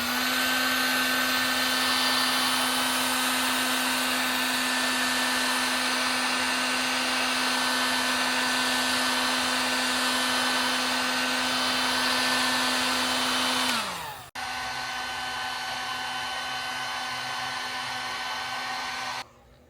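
A heat gun or hair dryer blows a steady, loud whine close by while heating a Dodge Challenger Hellcat badge to loosen its adhesive, then its pitch drops sharply and it runs on at a lower setting before cutting off.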